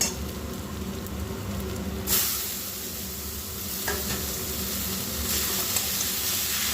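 Red amaranth greens dropped into a hot pan with oil and poppy seeds, a sudden burst of sizzling and steam that settles into a steady loud hiss with occasional stirring, close by.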